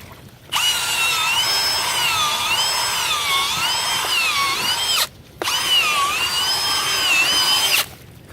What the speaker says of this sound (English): Take my drill here.